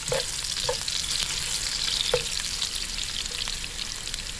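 Garlic frying in a pan gives a steady, close sizzle, with a few sharp clacks of a utensil stirring against the pan.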